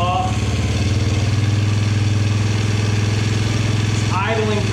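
A 1980s Yamaha Moto4 80cc ATV engine, freshly fitted with a new carburetor and fuel lines and running without its air filter, idles high with a steady close putter that holds throughout.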